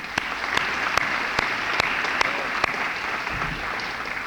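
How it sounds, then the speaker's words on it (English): An audience at a town evening event applauds council members, giving steady, moderate clapping with a few sharp, louder individual claps standing out at irregular intervals. "Let's give them a round of applause."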